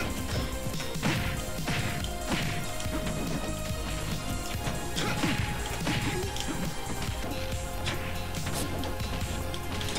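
Force smash attacks in a fast fighting video game land as a dense, continuous run of sharp smashing and whacking hits with swishes, loud and steady across the whole stretch of game audio.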